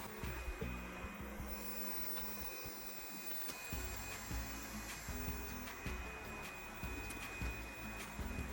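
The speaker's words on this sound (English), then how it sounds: "We are sending the vacuum home after it has been mopping" A Yeedi Cube robot vacuum heads back to its dock after mopping, giving a steady close whirring motor drone with small bumps and rubbing knocks. No voices are heard.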